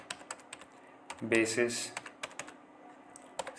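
Keys clatter on a computer keyboard as MySQL commands are typed, a scatter of light, quick taps under a voice, with a brief burst of speech in the middle and fainter keystrokes continuing after it.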